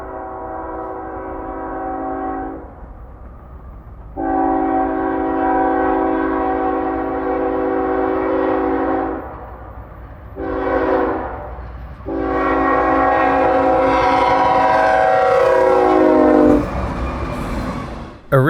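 A 20K expedited intermodal freight train led by a Penn heritage locomotive sounds its horn loudly and close in repeated long blasts, with a short gap and a shorter blast between them, over rail rumble.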